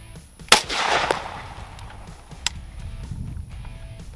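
A SIG 556 rifle fires at a natural lime White Claw can outdoors: one sharp, close report followed by a hissing spray, then a fainter second crack a couple of seconds later.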